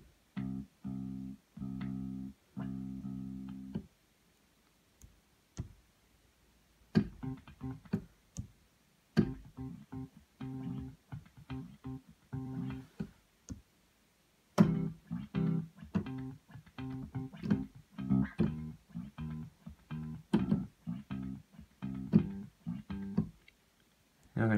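A bass MegaVoice on a Yamaha Genos keyboard driven by the arpeggiator plays quietly in rhythmic bursts of repeated plucked bass notes, broken by short pauses.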